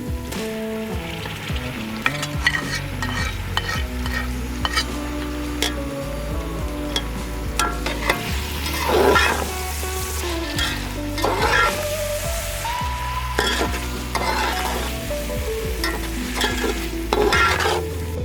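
Tomatoes and green chillies fry over ginger-garlic paste in a pot for beef kofta pulao, with a steady loud sizzle and repeated scraping stir strokes throughout, no voices.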